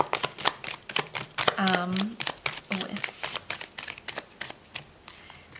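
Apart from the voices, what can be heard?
tarot cards being shuffled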